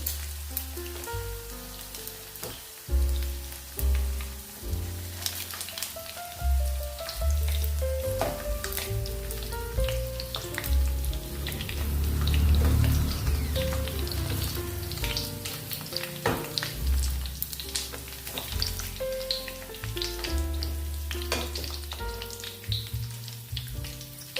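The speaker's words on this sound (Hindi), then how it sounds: "थोड़ा थोड़ा हमने फ्राई कर लिया है, ज़्यादा इसको तलना नहीं है।" Pea snack frying in a pan with a dense, crackling sizzle that swells and fades like rain on a surface, with occasional stirring scrapes, close and steady throughout, with no speech.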